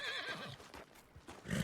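Horse whinnying loudly in Red Dead Redemption 2, a short, shrill neigh with a few hoof clops, close and with no talk.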